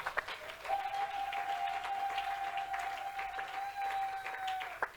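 A church congregation applauds and cheers for Jesus Christ, steady crowd clapping throughout with a long sustained musical tone held underneath and a few sharper claps near the end.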